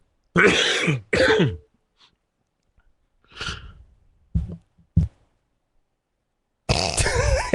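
Several harsh coughs and throat-clearing noises come close to the microphone, separated by quiet gaps, with a couple of short grunts between them.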